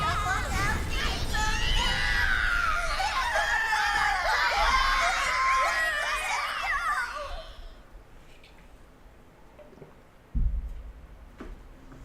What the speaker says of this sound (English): The screams of burning victims rang out from the downed vessels.